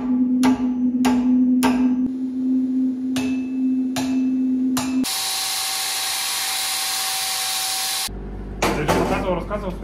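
An angle grinder whines loudly as it cuts metal outdoors in frosty weather, a steady high-pitched hiss after a few sharp knocks, then abrupt shifts in the noise.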